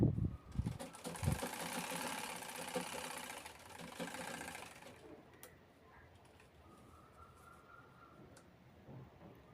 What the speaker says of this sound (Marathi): साईडने आपण शिलाई घेतो